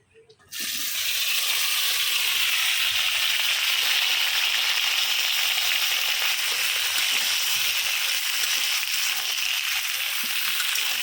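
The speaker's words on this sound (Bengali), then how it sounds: "এখন আমি সিম আর আলুগুলা প্রথমে ভাইজা নিব" Broad beans and potatoes fry in a single addition of oil, a steady, loud hiss that starts abruptly after a brief quiet moment and runs unbroken to the end with no voices.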